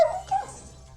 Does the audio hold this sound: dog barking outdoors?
yes